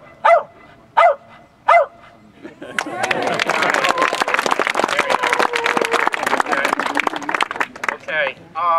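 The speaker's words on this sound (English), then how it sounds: "He's going to bark the first number, then the second number." A dog at a live golf show barks a short series of distinct woofs, three evenly spaced, before a noisy crowd burst of applause and cheering swells, with a voice briefly heard near the end.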